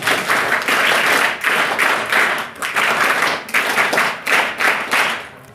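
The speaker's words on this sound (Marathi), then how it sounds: "त्याच्यासाठी तुम्हीच तुम्हाला एकदा टाळ्या वाजवा." A group of students claps together at a winter camp lecture, producing a loud, dense burst of applause with rhythmic swells that fades at the end.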